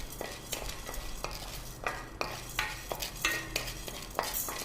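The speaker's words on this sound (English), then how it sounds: "Let's roast it till we get a nice aroma and the color changes." Urad dal roasts in a heavy-bottomed pan while a utensil stirs and scrapes it in repeated short strokes over a soft continuous sizzle, close and fairly loud, with no talk.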